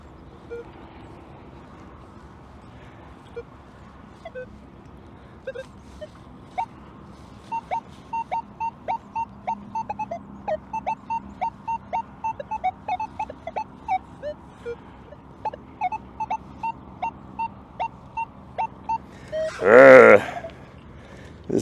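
Nokta Legend 2 metal detector giving a long run of short, evenly spaced beeping target tones over a faint background hum, ending in a brief louder burst of noise.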